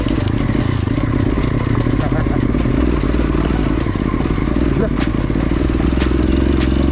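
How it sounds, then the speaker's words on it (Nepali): Off-road motorcycle riding through a rocky riverbed, engine loud and close throughout with constant rattling, clattering and stones crunching under the tyres. "टक्क खोलामा बाइक उडाउनु खुब मन लाग्छ नि त होइन। यसरी उडाउने हो टक्क लाँदा।"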